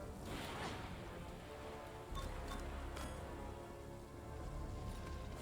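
Steady rain pattering on a surface in a stormy scene from The Bad Batch, a continuous wash of drops with brief brighter splashes, loud and alone with no voices.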